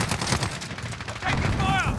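Bursts of gunfire in a combat video game, sharp repeated shots over a busy mix with a voice briefly audible near the end.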